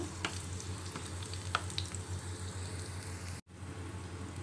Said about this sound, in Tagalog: Igisa na po natin yung ating bawang para sa ating giniling